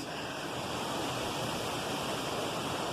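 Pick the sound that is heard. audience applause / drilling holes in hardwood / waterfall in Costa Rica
waterfall in Costa Rica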